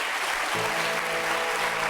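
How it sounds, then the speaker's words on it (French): Studio audience on a French TV game show applauds loudly and steadily, a dense continuous wash of clapping with no voices over it. "on applaudit très fort Nelly"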